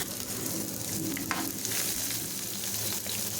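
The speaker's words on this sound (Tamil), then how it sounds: "ஆட் பண்ணிவிட்டு நல்லா வதக்கி விட்டுருங்க" Onions and curry leaves sautéed in a pan for beetroot poriyal, a dense, bright, continuous sizzle with light stirring scrapes, close and steady, no speech.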